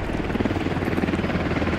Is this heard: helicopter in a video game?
yes